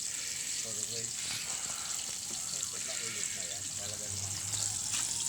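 Garlic and onion frying in a pan at an outdoor outing meal, giving a steady close sizzle throughout while people chat over it.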